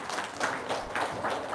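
Audience applause in an Indonesian religious talk gathering: steady, fairly even clapping from a crowd throughout, moderately loud and filling the space, with no distinct speech over it.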